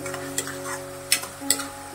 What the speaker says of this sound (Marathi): चांगलं फ्राय करायचं आहे आपल्याला कांदा।